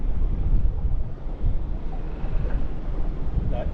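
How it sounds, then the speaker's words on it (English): Strong southerly wind at sea aboard a small UK fishing boat, a steady heavy rumble of gusts buffeting the microphone with washing water beneath, continuous and loud throughout. "this southerly wind wasn't forecast for a couple of hours yet"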